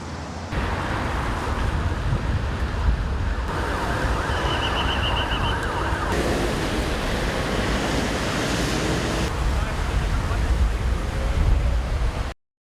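Emergency vehicle sirens wail at a road crash scene where a Volkswagen and an Opel collided, with ambulances, police and rescuers present, sounding loud under dense, rushing street noise for about twelve seconds before cutting off.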